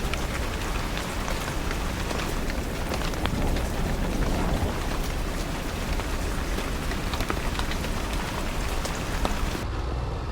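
Steady rain patters and hisses without a break during a motorcycle ride through the Italian Dolomites, loud and continuous with no voices.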